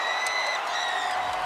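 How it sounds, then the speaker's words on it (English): A basketball crowd in a men's game against Seattle cheers and applauds in a continuous loud roar, with claps and whoops blending into a dense wash for the whole brief moment. "He's getting the crowd pumped up."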